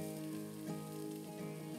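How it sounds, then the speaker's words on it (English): Steady, close sizzling of onion slices frying in hot oil in a frying pan, a continuous crackling hiss with no talking. "Stir fry them until coated with oil."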